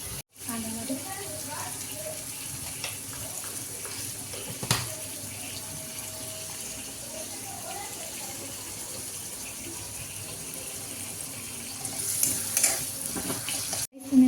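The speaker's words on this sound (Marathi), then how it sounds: "आता आपण चांगलं ब्राऊन होईपर्यंत कांदा भाजून घेऊया." Chopped onions frying in a pan on a home kitchen stove, a steady close sizzle under ongoing talk, with stirring clinks and a brief burst of running water near the end.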